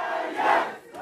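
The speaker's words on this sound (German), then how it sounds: "Buhrufe und Proteste, überall ist Taksim, überall ist Widerstand, rufen sie" Protesters outside a courthouse boo and shout as a crowd after a verdict, a sustained roar of many voices swelling in the middle of the second and then easing.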